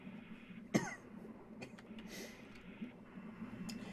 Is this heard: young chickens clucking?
no